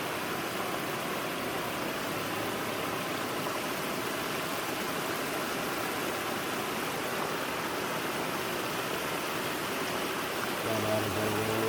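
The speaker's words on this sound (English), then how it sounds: "if I could go to sleep every night to the sound of a waterfall like that" Broad, steady roar of a waterfall at a fishing spot, dense and unbroken at close range, with no voices.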